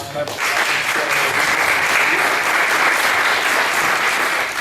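Loud, sustained applause from an audience at a rural development panel discussion, starting abruptly and continuing as a thick unbroken wash of clapping.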